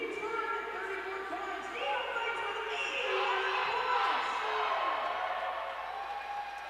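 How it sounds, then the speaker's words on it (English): A roller derby crowd at a 2013 bout cheers and whoops, a lively wash of raised voices swelling and falling across the arena, with scattered shouts over a steady background roar. "The crowd's getting amped."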